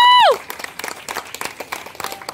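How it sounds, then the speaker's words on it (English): Scattered applause from an audience, a steady patter of clapping with light crowd noise, following a brief voice at the start. "Let's give a big round of applause for Keya Hutter"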